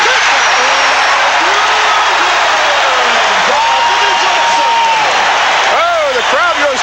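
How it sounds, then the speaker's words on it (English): A basketball arena crowd at a 1984 Celtics versus Pistons game roars with loud, sustained cheering and applause, while commentators talk over the din. "The crowd goes crazy with that one."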